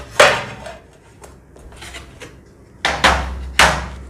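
Hand-cutting a ceramic tile without electric tools, face down, giving a few sharp knocking and scraping impacts with quiet gaps between them and two louder hits near the end.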